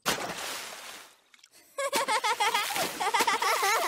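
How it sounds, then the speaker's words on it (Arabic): Water in a swimming pool splashes briefly at first, then after a short lull comes a run of rapid splashes and sloshes, close and fairly loud, from a cartoon scene. "ليس عليك رش كل هذا الماء"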